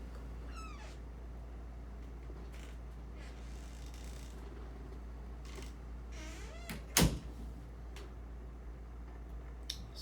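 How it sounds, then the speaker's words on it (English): Indoors, a cat meows a few times, faint and sporadic over a steady low hum, with one sharper loud knock or thump partway through. "There's a cat in here."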